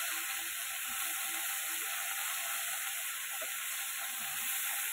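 Vegetables fry in a pan with a steady, even sizzle and hiss that stays close and constant throughout, with no talking over it.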